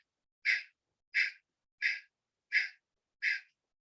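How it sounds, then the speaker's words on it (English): Five sharp, forceful exhalations through the nose in Kapalbhati breathing practice, evenly spaced about every 0.7 seconds, each a short, close hissing puff with silence between them. "You're blowing out like a bellow with your lung."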